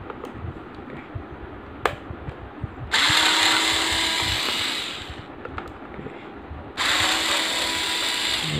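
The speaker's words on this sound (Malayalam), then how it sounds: "ഇത് വെച്ച് ഇളക്കുന്ന സ്ക്രൂ ഡ്രൈവർ ഇതാകുമ്പോൾ കുറച്ചുകൂടെ പെട്ടെന്ന് നമുക്ക് ഇളക്കാൻ പറ്റും." A Flipkart SmartBuy electric screwdriver whirs in two sustained bursts while backing screws out of a solar wireless motion sensor LED light, each run lasting a few seconds between quieter handling clicks, close and loud.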